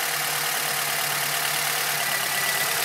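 An Acura TSX engine idling with an ignition coil pulled while tracking down a misfire: a steady, close mechanical hum and whir that holds level throughout with no voices.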